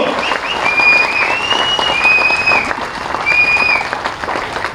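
Audience applause fills a public meeting in Tenali, a sustained wash of many hands clapping at close range with a few faint whistles riding over it.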